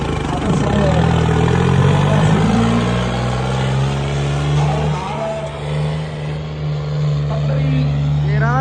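A farm tractor engine runs with a steady, close, throbbing drone and shifting tone, and indistinct voices sound over it throughout.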